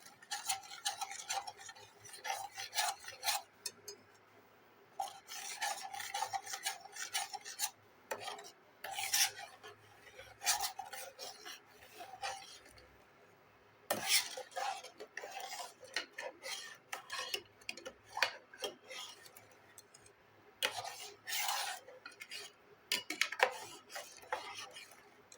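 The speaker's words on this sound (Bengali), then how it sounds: "তো দেখো এইভাবে এটাকে কন্টিনিউ নাড়াচাড়া করতে হবে।" Raw mango jam being stirred continuously in a pan, made from just two ingredients, with repeated scraping and rasping strokes of a spoon against the pan in bursts, close and moderately loud, with no talk.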